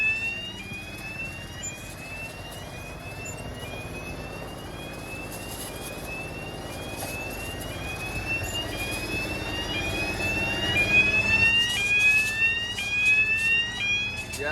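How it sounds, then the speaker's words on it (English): Warning siren on a farm sugar beet lorry sounding as the load nears full weight of about 29 tons: repeated rising electronic whoops over the low rumble of working machinery, growing louder toward the end. "You can hear the siren going off now."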